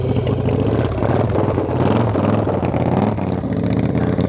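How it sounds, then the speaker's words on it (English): A Kawasaki ZH2 with its supercharger building boost on a drag strip: a loud, sustained engine roar with a rising, strained tone that holds without a break. "I can hear the supercharger, and it's starting to build boost at 8 grand"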